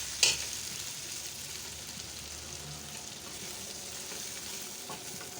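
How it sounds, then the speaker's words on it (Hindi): Desi chicken karahi fries in a wok with a steady, close hiss of hot oil, opened by a sharp clink from a utensil, with a faint scrape of stirring and no talk. "इसमें कढ़ाई बनाते हुए फ्राई करना बहुत ही ज़रूरी होता है"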